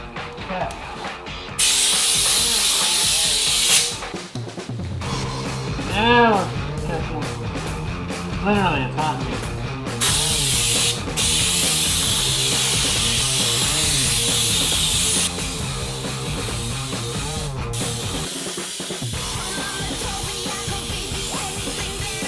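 Spray rig applying Lizard Skin insulation coating onto an Airstream trailer, a steady close hiss running throughout with brief interruptions and shifts in intensity, mixed with voices talking intermittently.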